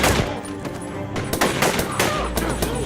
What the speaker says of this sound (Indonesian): Terjadi baku tembak kembali saat para teroris telah mengetahui penyusupan mereka.